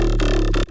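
Jump-up drum and bass synth patch made in FL Studio with its resonance filter switched off, a loud, dense buzzing tone with a steady low foundation, one brief change in timbre near the middle, then cutting out abruptly at the end.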